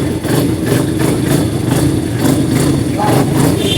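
A freshly assembled Yamaha motorcycle engine idles loudly up close after its first kick start, a continuous chugging mechanical rumble with a steady pulse and faint talking underneath.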